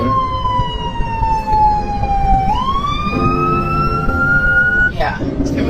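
A fire engine siren passes very close beside a car during the Lahaina, Maui fire, wailing loudly with a falling then rising pitch over engine rumble before it cuts off.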